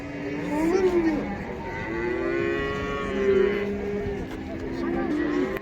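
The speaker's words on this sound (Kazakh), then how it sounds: "Бұзаулы сиыр." Cattle at a livestock market in Taraz lowing in long, drawn-out moos, several calls one after another, fairly close amid general market noise.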